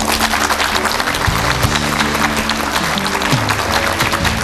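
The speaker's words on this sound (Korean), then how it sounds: "힘찬 박수로 모시겠습니다" A studio audience at a televised lecture on classic Korean novels claps to welcome a university professor, a dense, loud burst of applause heard alone under a low musical backdrop.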